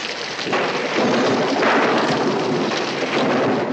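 Heavy rain pours steadily during a thunderstorm at night, a dense, loud wash of falling water with rumbling thunder underneath, continuous and close throughout with no talk.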